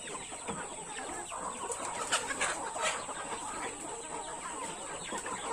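Farm chickens, fed pellets until full, cluck and chatter steadily as a flock with a constant high-pitched hum behind them.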